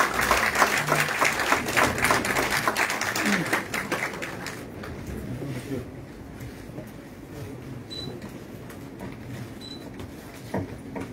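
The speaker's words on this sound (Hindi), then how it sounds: "तालियों से स्वागत करें।" An audience at a political party event claps to welcome new members, with dense applause that is strong for about four seconds and then thins out and fades into a quiet room.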